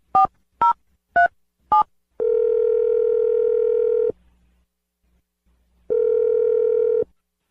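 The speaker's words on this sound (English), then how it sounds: "So dial the phone number right now." Four quick touch-tone beeps dial a number, followed by two long, steady ringing tones separated by a pause of silence.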